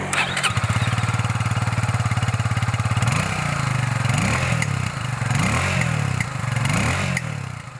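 Kawasaki W175 single-cylinder motorcycle starting up, then its exhaust thumping at a rapid, even idle with a few throttle blips rising and falling, close and loud.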